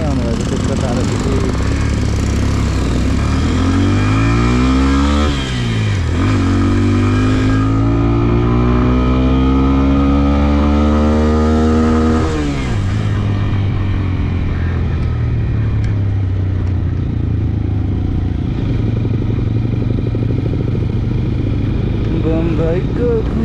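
A motorcycle carries a rider on a long journey toward Halesi in Nepal, its engine droning steadily up close with revs climbing and falling in long sweeps, wrapped in rushing wind.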